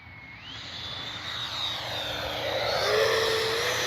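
An E-flite F-16 70mm electric ducted-fan RC jet whines overhead with a high, shifting turbine-like tone that climbs in pitch and grows steadily louder as it approaches.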